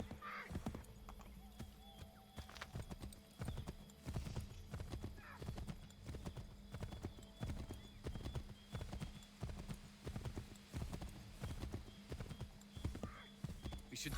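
A horse's hooves clip-clop in a steady rhythmic gait in the Assassin's Creed game, with an occasional whinny and faint in-game voices beneath the hoofbeats.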